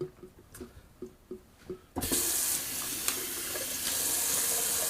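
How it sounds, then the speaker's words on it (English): Water runs steadily into a sink after a few soft splashes and clinks, then becomes a loud continuous rush from a tap as the sink is emptied and rinsed after wet shaving. "Going to empty my sink."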